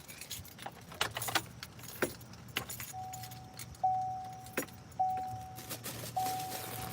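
Car keys jangle and clink up close while someone searches for them, a run of sharp metallic rattles at irregular intervals over a low vehicle hum, with several short electronic chime tones sounding between them.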